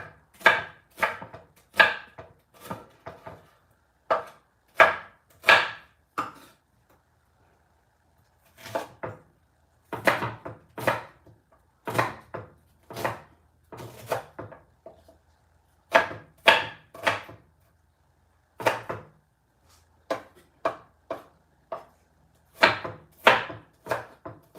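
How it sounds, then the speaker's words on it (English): Onions being chopped on a board, rapid bursts of knife taps in quick runs separated by short pauses, crisp and close with no talk. "chop up some onions."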